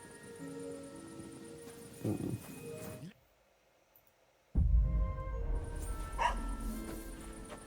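A dog barks in the medieval role-playing game Kingdom Come: Deliverance 2, a few sharp yaps set against game ambience, with a short silent gap midway and an abrupt return of louder background sound.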